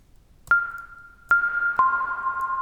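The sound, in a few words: melodic blip synth sound with reverb, Ableton Operator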